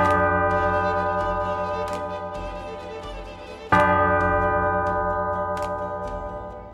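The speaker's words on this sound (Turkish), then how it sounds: "diğer tarafta kiliseden yükselen çanlar." Church bells ring out from a church with steady sustained tolling, a struck bell's hum lingering between blows and a fresh strong stroke near the middle, heard alone at moderate distance.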